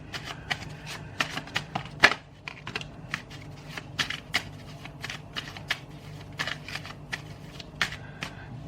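Tarot cards are shuffled close up in a rapid series of crisp riffling snaps and flicks, irregular bursts repeating steadily throughout with faint background hum and no talking.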